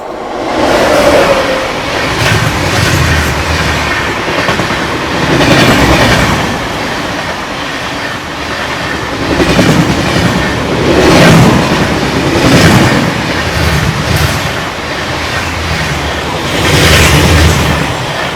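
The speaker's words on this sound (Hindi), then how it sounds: "तो सामने से आ रही है आप लोगों की पद्मावत एक्सप्रेस आती हुई, काफ़ी अच्छी रफ्तार में आ रही है पद्मावत एक्सप्रेस।" Padmavat Express of Indian Railways rushes past a crossing at good speed, a loud close roar with rhythmic clickety-clack of wheels over rail joints swelling in repeated pulses as coaches go by.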